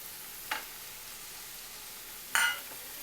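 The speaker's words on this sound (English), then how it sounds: "Let it fry for some time." Tomato frying in a pan for cheese pasta produces a faint, steady sizzle, with two brief metallic clinks of a utensil against the pan.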